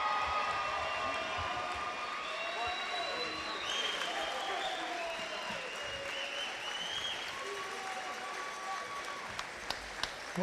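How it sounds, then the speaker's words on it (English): A crowd at a college basketball game between Elmhurst and Augustana keeps up sustained applause and cheering, fairly distant and echoing through the arena, with a faint amplified voice and whistle-like tones over it. "Let's have one more big round of applause for the accomplishments of the 2012 Elmhurst football team."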